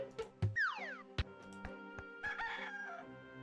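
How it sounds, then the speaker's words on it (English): Rooster crowing in the Discworld II video game, a loud rising-and-falling crow with a high harmonic sweep, set over game music and scattered clucks and thumps. "So there's the rooster making all the noise"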